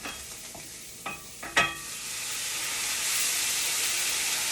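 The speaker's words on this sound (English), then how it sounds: "And then I'm going to deglaze with some red wine." Red wine hits a hot pan to deglaze it after sautéed aromatics and parsley, bursting into a loud, rising sizzle that settles into a steady hiss, with a few utensil clinks as it is stirred.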